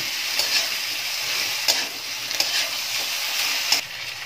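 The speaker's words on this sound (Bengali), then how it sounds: "এবার ভালো করে মশলাটার সাথে শিম আর কপিটাকে একটু ভাজা ভাজা করে নিচ্ছি" Broad beans and cauliflower fry with ginger and green chilli paste for a Bengali vegetable moong dal, giving a steady close sizzle with periodic stirring clatters and no talk.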